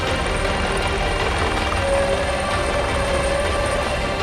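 A rescue helicopter flies over flood-hit Nepal, its rotor and engine a steady loud drone that fills the whole stretch with no talk.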